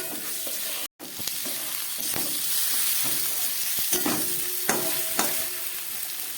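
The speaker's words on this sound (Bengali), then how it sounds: "এবার খুব ভালো করে এটাকে কষিয়ে নেব।" Ground spices sauté in a pan with a continuous hissing sizzle, after a brief cut near the start, while a utensil scrapes and stirs in repeated strokes up close; nobody speaks.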